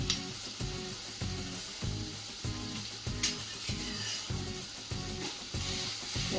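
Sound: sautéing ginger chili garlic paste

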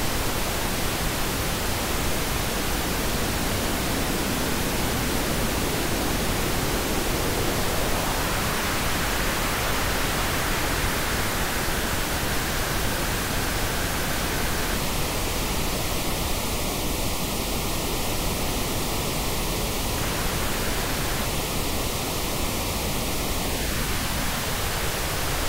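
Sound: band filter applied to noise

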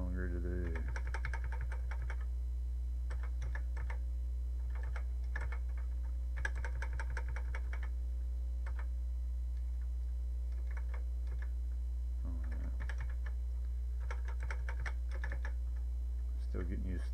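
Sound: typing on MSX computer keyboard cursor keys

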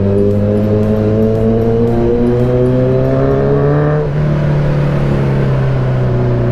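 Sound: Kawasaki Z900 motorcycle engine revving

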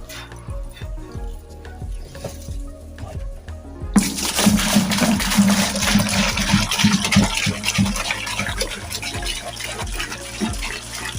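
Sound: cow urine being poured from a can

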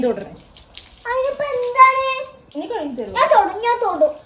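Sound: water from a tap washing hands

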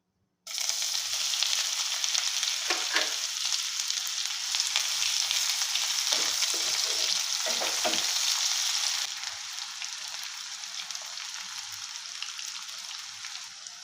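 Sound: bay leaf and chopped onion frying in pan

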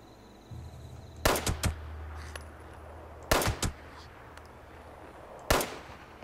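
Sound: gunshots in the video game Fallout 76

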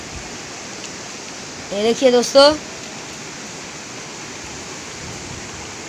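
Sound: fast-flowing river water at a waterfall

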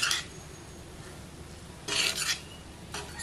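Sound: stirring rice in oiled pan

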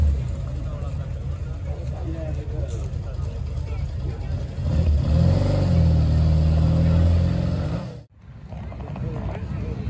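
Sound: car arriving

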